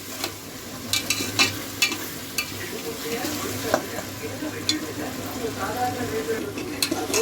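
Onions for a home-style biryani sauté in a pot while being stirred, giving a steady low sizzle with occasional scraping clicks from the spoon. A faint voice can be heard in the background.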